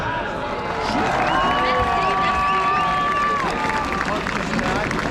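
A protest crowd in a public square in Paris applauds and cheers steadily, a dense wash of clapping and shouting that stays loud for several seconds, with babble mixed in.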